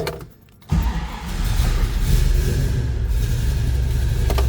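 A 1970 Dodge Challenger R/T's 440 V8 engine cranks and catches after a brief pause, then settles into a loud, deep, rumbling idle up close.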